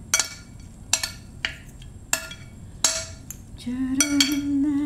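Radish salad is mixed in a bowl with utensils, giving a series of sharp metallic clinks and scrapes at an uneven rhythm, close and clear, with a brief ringing tone near the end.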